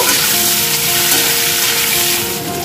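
Pumpkin pieces frying in hot oil with tempering spices and dried red chillies tossed in: a loud, steady, unbroken sizzle close by, with a faint hum beneath and no voices.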